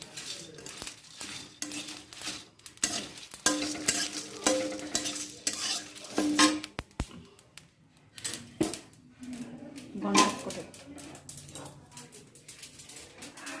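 Food fries in a pan with a soft, uneven sizzle, broken up by frequent spatula scrapes and light clinks of the utensil against the metal.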